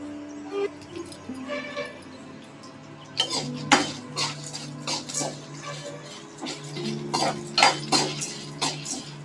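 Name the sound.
urad dal and dried red chillies roasting in a pan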